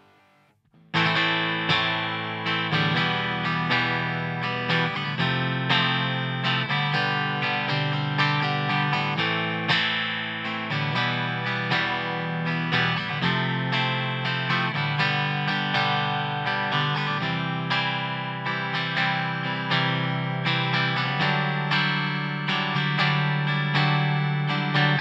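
Distorted electric guitar through an amp with chorus-like shimmer, played on a Telecaster bridge pickup (EGP Vintage Timeless '68 Standard), sustained chords played continuously and loudly for the whole stretch.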